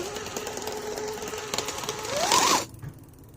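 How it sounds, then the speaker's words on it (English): A 3D printed 400 watt electric bike motor running under throttle, a close mechanical whirring drone that rises in pitch as it speeds up, then cuts off abruptly near the end. "As you can see, when you throttle the bike, it does move."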